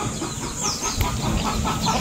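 Farm chickens cluck in short, irregular bursts close by, a busy rural poultry yard with no talk over the sound.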